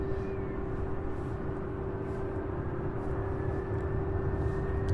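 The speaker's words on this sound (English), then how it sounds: "It's A300 here." An Airbus A300 at Louisville International Airport gives off a steady, distant jet engine drone with a constant whining tone, a broad low rumble beneath it and no voices.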